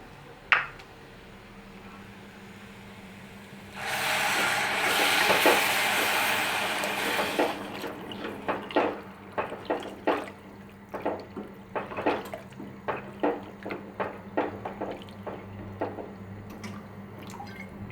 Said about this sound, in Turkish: 5 su bardağı kadar su ilave ettim